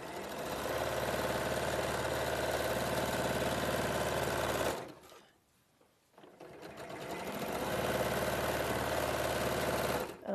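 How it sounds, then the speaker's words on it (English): A sewing machine runs steadily as it stitches fabric, a loud, even mechanical whir that stops for about two seconds midway, then starts up again and carries on. "And then what I'll do is carry on sewing towards where I'm going to put my next one."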